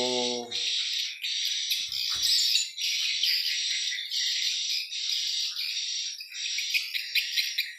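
A swiftlet lure call played through a speaker inside a 4x12 swiftlet house in East Kalimantan, a steady stream of bright, rapid chirps and twitters repeating continuously, fairly close, with a brief low knock early on.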